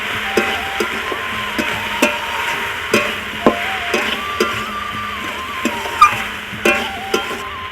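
Cabbage curry fries after chili powder goes in, a steady sizzle under a spoon scraping and tapping the pan in irregular knocks every second or so, close and fairly loud with no talking.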